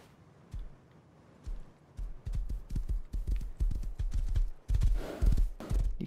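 Rhythmic hoof clip-clops from a horse in the video game Rust, steady and fairly close, with a brief louder rustle near the end.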